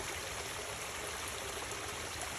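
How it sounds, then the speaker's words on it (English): Creek water rushes over a beaver dam in a marsh, a steady close splashing hiss with no pauses and no voices. "Water rushing over."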